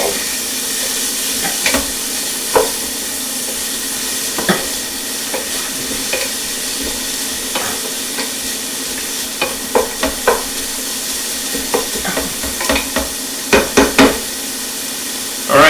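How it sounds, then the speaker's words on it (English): Garlic sautéing in a hot pan for spicy sausage lentil soup, a steady close sizzle and hiss with intermittent clicks and scrapes of stirring, growing busier toward the end. "we're only going to saute that for probably about 30 seconds"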